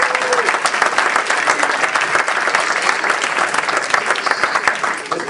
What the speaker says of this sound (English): asking for a big round of applause for all the speakers and the organizers